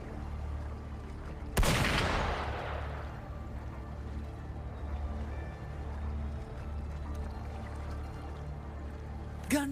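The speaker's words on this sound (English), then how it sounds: "Gunfire! We've got intruders." A single loud gunshot-like crack bursts out during a Wuthering Waves story quest, then decays into a low, steady ambient rumble that continues to the end.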